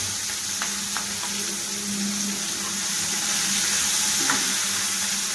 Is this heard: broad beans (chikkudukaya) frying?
yes